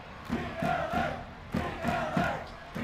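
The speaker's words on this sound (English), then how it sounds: "Beat LA is the shout from the Earthquakes crowd" A stadium crowd at a San Jose Earthquakes soccer match against the LA Galaxy chants in rhythmic waves, repeated shouted phrases rising and falling in a steady pattern, distant and reverberant across the stands.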